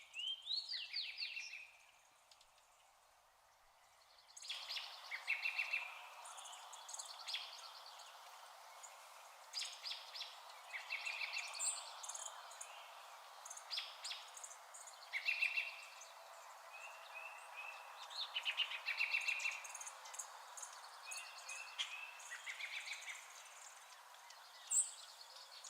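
Birds chirp and call in a steady, busy chorus, mid-distance and moderately quiet, with overlapping tweets and short trills continuing throughout with no talk.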